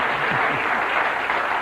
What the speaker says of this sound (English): You know how to get an applause out of an audience.